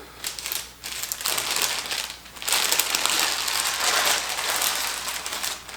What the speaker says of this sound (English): peel my paper off, which is dripping all over me